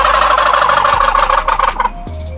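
A wild turkey gobble rings out loud and close, a dense rattling burst for about two seconds, followed by a short faint tail as it cuts off.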